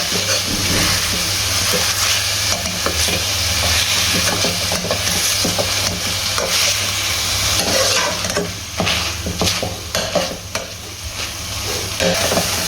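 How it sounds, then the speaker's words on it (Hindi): Cooked chicken is mashed into shreds with a spoon in a hot frying pan for a street-style chicken egg burger, with a loud continuous sizzle and frequent scraping strokes of the spoon, heard close up. "इसको हमने ऐसे चम्मच की मदद से इसके ऐसे रेशे कर देने हैं सारे"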